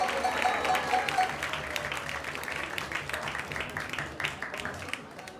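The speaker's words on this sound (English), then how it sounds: "So please, big round of applause for all the Sankirtan devotees and the whole ISV community." Many people clap at an evening celebration program in a devotional community gathering, a fairly strong burst of applause that gradually fades, with some voices mixed in.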